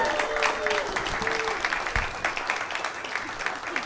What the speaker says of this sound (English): Let's hear it. Clap it up.